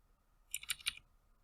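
Three quick computer keyboard arrow-key presses about a sixth of a second apart, close and crisp against a quiet room, used to nudge a sticker design into place on a DIY planner sticker sheet.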